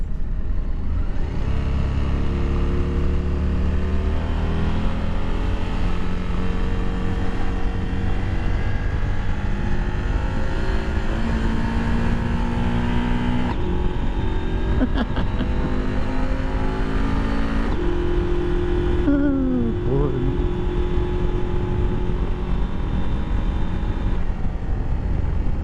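A 2022 Husqvarna Norden 901 motorcycle engine drones loud and unbroken while riding, its pitch rising and falling as revs change over about twenty-five seconds.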